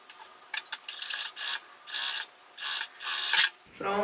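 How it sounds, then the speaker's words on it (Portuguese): Sewing machine stitching synthetic leather scraps for a zippered pouch, heard in several separate short rasping bursts of needle action with brief pauses between, fairly quiet and close, no talking. "vou passar uma costura unindo o rosa e o azul"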